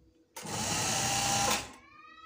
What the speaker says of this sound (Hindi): मैं हाथ की मदद से मोड़ती जाती हूँ और सिलाई मारती रहती हूँ